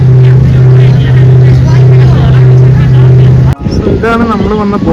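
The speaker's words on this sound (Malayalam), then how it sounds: "ഇതാണ് നമ്മൾ വന്ന ബോട്ട്." Britomart to Devonport ferry boat: a loud, steady low engine drone runs continuously, then breaks off abruptly near the end, leaving rougher mixed noise.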